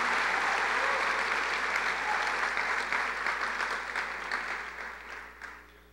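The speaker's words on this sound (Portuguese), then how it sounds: "Você pode dar uma salva de palmas àquele que é digno de todo louvor" Church congregation applauding in sustained, dense applause that fills the space, steady at first and gradually thinning and fading toward the end.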